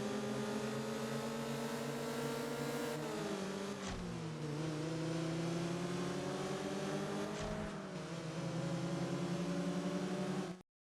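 Racing cars in the Xbox game Burnout 3 roar loudly and continuously, the engine pitch climbing and dipping through gear changes, with two brief sharp breaks partway through and no one talking.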